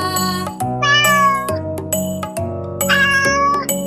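A cat meows twice, clear and close, with gentle music playing underneath.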